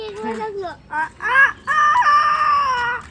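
A person's voice mimics a chicken, with a few short rising clucks, then a long sustained crowing call, loud and close with brief pauses between.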